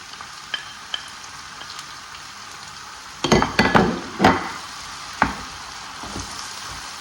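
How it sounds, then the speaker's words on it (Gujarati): Tomatoes dropped into onions frying in a pan for eggplant bharta, with a soft background sizzle, a burst of sharp splattering and stirring clatter in the middle, then quieter frying. "હવે આપણે આમાં ટામેટાં નાખીશું"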